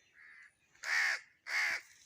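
A crow near a sugarcane field gives two loud, harsh caws about half a second apart, close by, after a fainter earlier call, with quiet surroundings and no talk.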